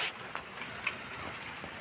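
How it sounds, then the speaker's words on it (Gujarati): Soft, steady patter of light rain with a few scattered drop taps, fairly quiet and continuous, no voices. "વરસાદ આવે છે અત્યારે ધીમે ધીમે છાંટા છાંટા આવે છે"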